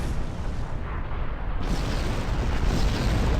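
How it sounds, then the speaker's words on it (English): Explosions in the space combat game Star Trek Online, a dense, continuous rumbling barrage of booms that stays loud throughout with no talking. "Why is everything exploding?"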